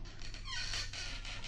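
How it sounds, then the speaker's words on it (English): A trap door in the 1964 Munsters TV house creaks open with a single drawn-out, squeaky groan of rising and falling pitch, close and fairly loud over a low background hum. "Now we'll open the trap door."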